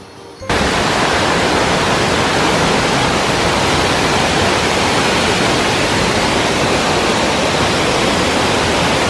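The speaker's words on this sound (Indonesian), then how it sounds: "akhirnya kita sampai di air terjun Bidadari cuy" The Bidadari waterfall near Bukit Hitam roars as a loud, dense, steady rush of falling water that starts suddenly and continues unbroken without any talking.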